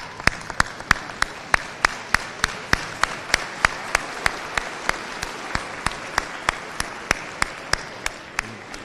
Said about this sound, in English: I would now like to ask the class of 2024 to please stand, turn, and applaud your loved ones